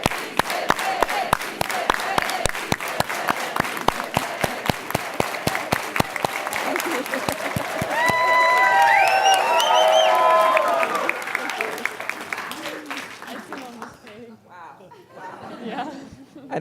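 A live event audience claps in unison to a steady rhythmic beat with chanting voices and cheering swelling in the middle, the claps continuing loud and close before thinning out near the end.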